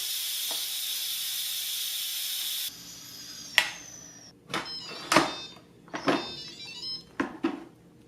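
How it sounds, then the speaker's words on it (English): Steam vents from an Instant Pot Duo Mini stainless steel pressure cooker in a steady, loud hiss for about three seconds, then stops abruptly, followed by several close clicks and knocks. "It's been 10 minutes, now we can release the steam."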